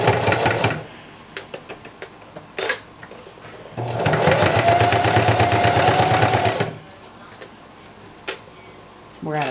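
A home sewing machine stitches vest fabric from a kit: short bursts of rapid needle clatter, then a sustained run of whirring stitching lasting a few seconds, with small clicks and handling noises around it.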